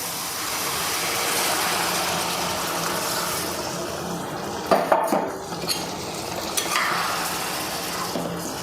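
Gentle bubbling and sizzling from a pot of chicken curry after hot water is added, with a spoon scraping and clinking against the metal a few times midway.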